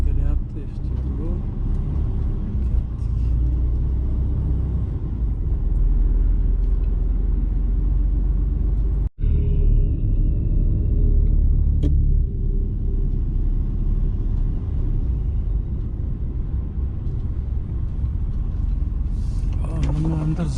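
A car drives through the Mont Blanc tunnel between Italy and France, with a constant loud engine and road rumble echoing and people talking inside the car.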